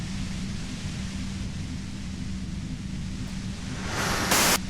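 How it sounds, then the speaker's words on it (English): Steady broadband white-noise hiss from a video game, continuous and fairly loud, rising slightly with a brighter burst of static near the end; no voices. "you can do it through the white noise"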